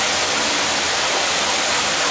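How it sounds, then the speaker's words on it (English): Water leaking through the walls into a sewer manhole makes a loud, steady rushing hiss like a small waterfall, continuous and close, with no speech. "If you'll notice the walls, see all that water leaking in from the walls?"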